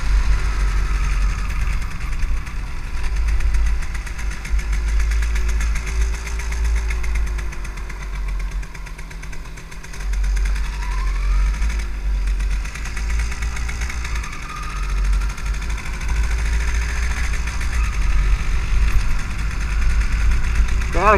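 An MZ 250 motorcycle engine runs steadily at a low, throbbing idle-like pace, close and prominent, with people talking faintly over it.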